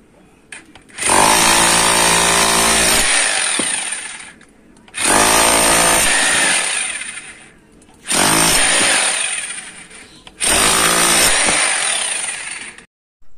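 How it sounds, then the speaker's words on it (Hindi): A Wondercut WCGP-2-26 rotary hammer drill breaking material runs in four loud, sustained bursts of harsh rattling hammering, each lasting a few seconds with short gaps between, close and dominant. "दोस्तों ये वंडर कट का काफ़ी बेहतरीन रोटरी हैमर ड्रिल मशीन है"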